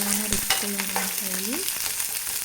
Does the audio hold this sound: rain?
no